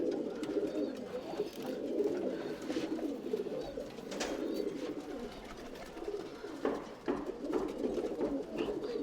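Tumbler pigeons cooing steadily in a loft in Bangalore, several birds making overlapping low throaty coos with occasional wing flutters and faint chirps in the background.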